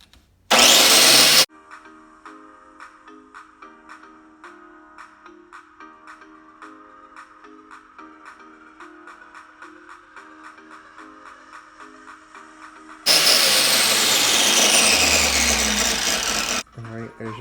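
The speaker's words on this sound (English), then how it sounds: "So let's cut the grinder on, lock it in place. We're gonna grind this cap off." Loud grinder bursts on an LS engine fuel injector as its cap is ground off, a harsh broadband roar at the start and again near the end, with quieter tonal music-like sound in between.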